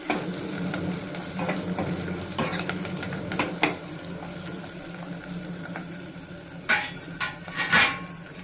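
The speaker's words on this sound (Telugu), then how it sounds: "మనం స్టవ్ ఆఫ్ చేసిన తర్వాత ఇప్పుడు మనం ఈ పోపులో రసాన్ని యాడ్ చేసేసుకుందాం." Tomato rasam is poured into a sizzling Andhra-style tempering in a pan, a crackling fry broken by stirring clinks and sharp bursts of sputtering as the liquid hits the hot oil near the end.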